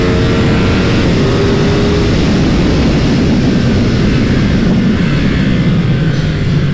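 A loud, steady engine roar at high revs from a 2022 Ducati Streetfighter V2 motorcycle at speed, continuous and close throughout, with wind rush and no voices.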